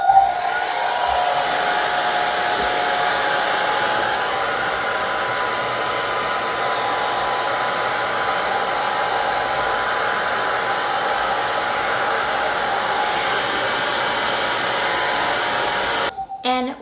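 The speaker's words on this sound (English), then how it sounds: "I'm gonna go ahead and flip my head over and diffuse the entire portion of my hair" A hair dryer fitted with a diffuser drones steadily and loudly while drying curly hair, running continuously up close before cutting off abruptly near the end.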